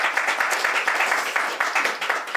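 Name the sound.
audience clapping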